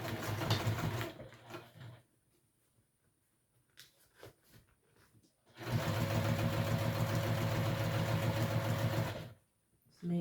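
A sewing machine set to a short stitch length runs in two steady, close bursts while joining fabric pieces for a small wristlet bag, the second burst longer, with a quiet pause between them.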